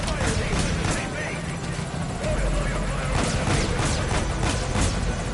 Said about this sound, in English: Oh, the chopper is coming in.